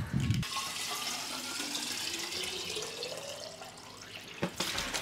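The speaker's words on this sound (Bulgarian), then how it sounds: "Трябва само да сипа вода" Water pours steadily into a container, a continuous splashing stream whose tone rises gradually as the vessel fills, ending with a couple of soft knocks.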